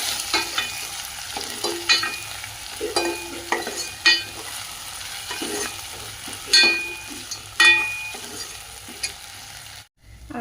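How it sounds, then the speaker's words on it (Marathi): Spiced tempering for dahi kadhi frying in a pan, with a soft continuous sizzle broken by repeated sharp scrapes and knocks of a spoon stirring, close and clear, then a sudden drop to quiet near the end. "मस्त याला फ्राय होऊ द्यायचं आहे।"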